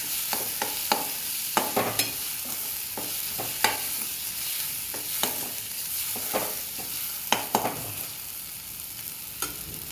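Masala for green chicken curry fries in oil over medium heat, a steady sizzle broken by repeated scraping stirs of a spoon against the pan.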